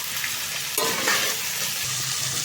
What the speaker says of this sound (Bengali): আমি পেঁয়াজের সঙ্গে আলুগুলোকেও একসঙ্গে ভেজে নেব